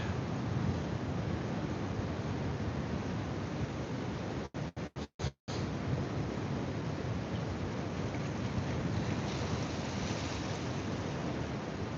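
Ocean waves and surf on the coast, where someone is bass fishing, make a steady, loud broadband rush with a strong wind-like roar, broken briefly by a few dropouts partway through.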